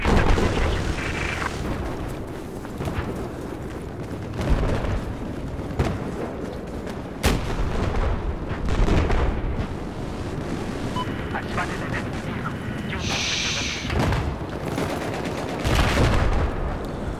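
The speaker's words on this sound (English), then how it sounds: "Ooh, I hear snipers." Battlefield 4 battle with sniper fire and gunfire: repeated sharp shots and booms over a constant dense rumble of combat, some close and loud, others more distant.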